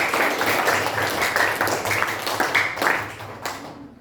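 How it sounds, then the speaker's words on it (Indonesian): A classroom full of people claps for group 2, a dense patter of many hands that stays fairly even for about four seconds and then fades out. "Tepuk tangan untuk kelompok 2"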